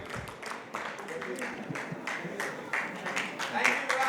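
Audience applause in a hall after a talk on simplifying tax returns, with scattered hand claps forming a steady, moderately loud patter that builds slightly toward the end and has no clear speech over it.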